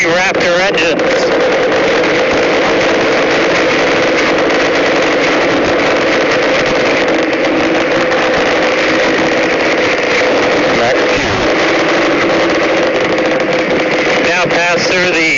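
SpaceX rocket with three Raptor engines roaring during launch: a loud, continuous, rumbling broadband roar that holds steadily throughout, with a voice speaking over it.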